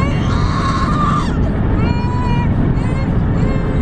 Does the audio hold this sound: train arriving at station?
no